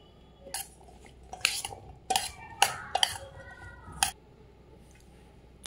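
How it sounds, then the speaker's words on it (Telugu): Chopped raw mango pieces stirred with a spoon of oil in a bowl, giving a run of close, uneven clinks and scrapes of spoon against the bowl that stops after a few seconds, with no talk. "ఇందులో 1 స్పూన్ ఆయిల్ వేసుకొని ఆ ముక్కలకి పట్టేలాగా కలుపుకోండి"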